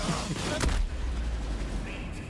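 Gunfire in the shooter game Borderlands 3, a dense rumbling burst of shots and booms up front that fades into a steady noisy game background, with a voice briefly audible.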